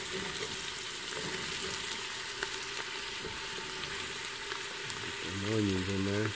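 Onions sizzle in a soup pot with carrots, a steady soft frying hiss with occasional light stirring clicks, and a faint tonal whine near the end.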